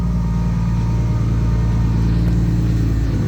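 A BMW E36 power steering pump runs low on fluid under an engine's steady idle, giving a constant, loud low hum with a faint whine layered on top throughout.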